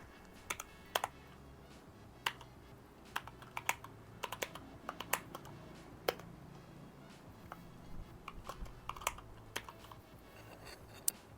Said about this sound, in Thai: อ่ะเดี๋ยวเราเราจะลองพิมพ์นะ เป็นชื่อ ของเราเอง